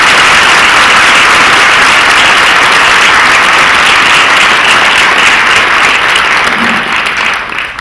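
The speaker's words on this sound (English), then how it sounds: "Please give them a big round of applause." A large audience at the 2013 Juniata College Bailey Oratorical competition applauds loudly and continuously, a dense roar of clapping that holds strong before easing slightly at the end.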